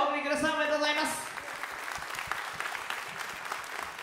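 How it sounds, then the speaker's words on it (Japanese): Audience applause at a fighting game tournament, scattered clapping that rises as an announcer's voice fades out at the start, then continues evenly at moderate volume. "お二方大きな拍手お送りください。"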